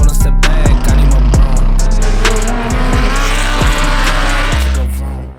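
A Lamborghini Huracan GT3 Evo2 race car engine, loud and high-revving, screaming close by, with repeated sharp gear shifts as the pitch climbs and drops in quick succession.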